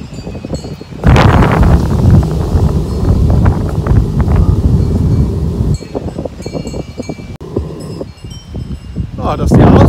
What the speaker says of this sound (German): wie windig es ist, mein lieber Mann.